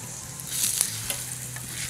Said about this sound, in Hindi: ये देखें आप कितने मज़े से ये फ्राई हो रहे हैं, बिल्कुल भी चिपक नहीं रहे